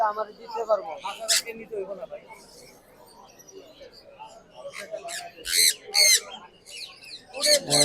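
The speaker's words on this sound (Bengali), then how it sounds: "পাখিদের কথা খুব অনেক সুন্দর ভালো লাগতেছে" Caged birds at the Mirpur bird market in Dhaka give short chirps, squawks and shrill calls in scattered bursts, some close and loud. Someone talks over them for much of the time.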